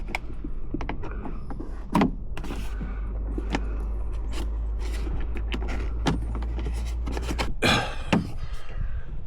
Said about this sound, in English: I'm just going through and pushing the trim back together.